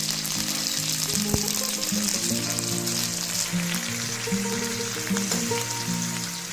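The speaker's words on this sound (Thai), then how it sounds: "จากนั้นกระเทียมได้ที่แล้วก็ใส่พริกเผาเลยครับ พริกเผาก็จะมีน้ำมันอยู่แล้วนะครับผม" Garlic and Thai roasted chili paste fry together in oil for minced pork fried rice, a loud steady sizzle with a faint stir, accompanied by a low steady tonal hum.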